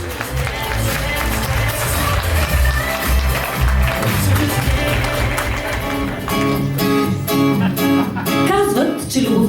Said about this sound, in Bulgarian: на място заслужени аплодисменти за тях